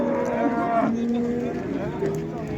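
A bovine at a livestock market in Qarshi gives a loud, drawn-out moo close by, with the noisy murmur of the crowd behind it.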